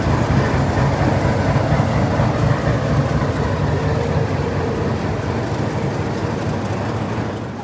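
Sealdah–Jammu Tawi Humsafar Express train, a steady low rumble of heavy engine and carriages, continuous and fairly loud, slowly fading slightly toward the end with no voices.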